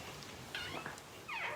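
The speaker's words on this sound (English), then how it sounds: "Hey, there's the kitty." A cat meows a couple of times close by indoors during a hurricane, short clear calls against quiet background hiss.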